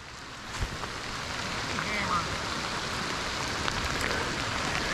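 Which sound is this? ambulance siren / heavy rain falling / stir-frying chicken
heavy rain falling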